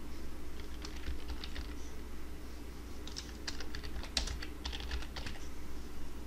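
Typing a plugin name on a computer keyboard, quiet nearby key clicks in short irregular bursts separated by brief pauses, over a faint background hum.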